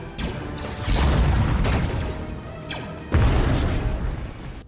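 Bomber explosions in an episode of The Mandalorian, heard as loud, deep booms rolling in repeated waves, each swell rising sharply and decaying over about a second.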